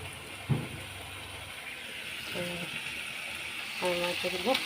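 Fried fish pieces go into a spice masala sizzling in hot oil for a fish curry, a steady crackling fry with a few clattering knocks of utensils against the pan.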